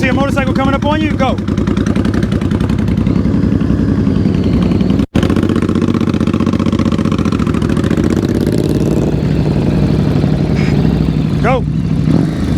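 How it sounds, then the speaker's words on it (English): A motorcycle engine idles and putters steadily at low speed through slow-speed riding practice, loud and close throughout with a brief cut partway, while people talk over it. "As soon as you see a motorcycle coming up on you"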